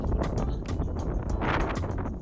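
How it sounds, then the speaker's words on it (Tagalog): Heavy wind buffeting the microphone over a rice field in Guimba, Nueva Ecija, a loud continuous low rumble with gusty bursts throughout. "medyo malakas po yung hangin"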